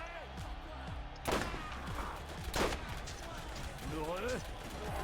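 Gunfire in Borderlands, set in an arena, two loud sharp shots over busy game sound and music, with speech running beneath them.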